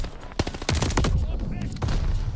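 Bursts of automatic gunfire from Call of Duty: Vanguard, a World War II shooter, with a loud, dense, rapid crackle of shots that carries on through most of the moment.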